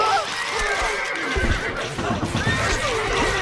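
A horse neighs in the medieval strategy game Stronghold Crusader, a loud drawn-out whinny set against in-game music, with a faint voice murmuring underneath.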